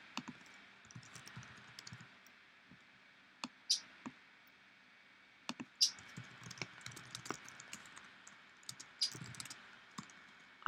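Text being typed on a computer keyboard, quiet irregular key clicks in quick bursts with a few sharper taps, close and alone.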